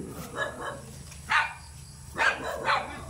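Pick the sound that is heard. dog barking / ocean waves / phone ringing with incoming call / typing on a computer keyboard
dog barking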